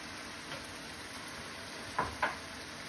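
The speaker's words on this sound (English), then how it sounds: "So I'm going to let that fry down a little bit." Shrimp heads frying down in a pan give an even, close sizzling hiss with a couple of sharp pops near the end, and no voices.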